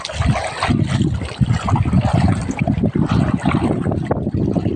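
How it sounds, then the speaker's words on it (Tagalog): Water sloshes and trickles into a small boat at close range, a continuous splashing, gurgling wash with no voices. "Pasok ang tubig."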